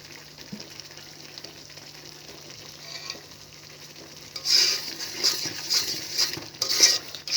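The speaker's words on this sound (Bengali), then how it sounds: "সব মশলা এবার খুব সুন্দরভাবে আমি কষিয়ে নেব" Chicken and spices for biryani fry with a sizzle in a pan, stirred with repeated scraping strokes and clinks of utensil on metal; the sizzle grows louder and busier in the second half.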